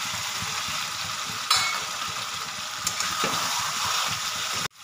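A spice masala with potatoes sautéed in a pan for chicken curry produces a loud, close, even sizzle, broken by a few stirring scrapes before it stops abruptly.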